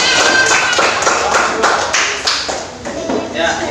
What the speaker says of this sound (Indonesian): Tepuk tangan buat Mita dulu.